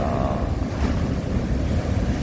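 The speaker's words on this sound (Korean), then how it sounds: "엄청난 파도가 밀려왔습니다." Heavy ocean surf roars continuously, a dense wash of large breaking waves close by near a harbour, with steady wind noise over it and no voices.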